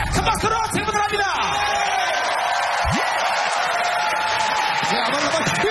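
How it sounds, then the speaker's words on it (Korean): Studio audience at a TV singing competition greets a performer's stage with a steady wash of applause, shouts and cheering voices, with a whoop rising out of the crowd noise. "큰 박수로 출발을 합니다."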